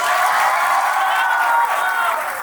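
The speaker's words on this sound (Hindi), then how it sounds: "भाई सचिन सर के लिए तालियां।" Audience applause for Sachin Sir, a teacher, at an offline exam-aspirants meetup in Lucknow: a broad, even wash of crowd clapping and cheering, loud and continuous for the whole stretch and tapering slightly at the end.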